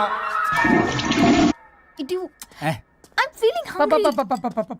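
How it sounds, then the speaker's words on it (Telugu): A toilet flushes in a comedy scene, a loud rushing gush that stops abruptly after about a second and a half, followed by voices talking close by. "ఫ్లష్ కొట్టడం మర్చిపోయావు"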